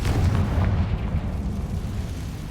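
A Confringo fire spell blasts off in Hogwarts Legacy, a loud, sustained explosive boom with a deep rumbling low end that rolls on for a couple of seconds without fading much.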